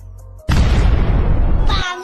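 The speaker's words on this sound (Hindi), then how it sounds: "लेकिन कुत्ता उसके पाइप में पटाखा डाल देता" A cartoon firecracker bursts inside a pipe a wolf is breathing through underwater: one loud, close, rushing blast that starts abruptly and lasts over a second, then cuts off into a brief squeal.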